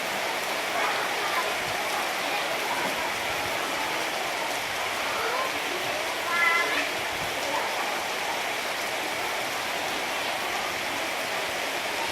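Steady rain falls at a school, a dense, even hiss of drops on surfaces that carries on unbroken for the whole stretch, fairly loud and close, with a faint voice briefly heard.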